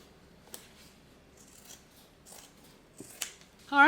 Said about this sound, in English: once the bottom's stitched on, go ahead and trim the seam allowance back.